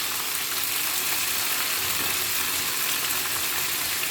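Half a kilo of fish fillets frying in hot oil, a steady close sizzle and crackle that runs unbroken throughout with no talking.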